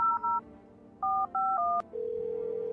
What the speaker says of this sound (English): Let me use the phone.